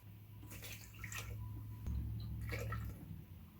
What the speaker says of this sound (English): And I'm going to add a cup and a half of water to this.